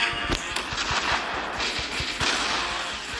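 Rapid video game gunfire while blowing up a tank, a dense stream of sharp repeated shots and thumping impacts over a noisy, explosive battle background.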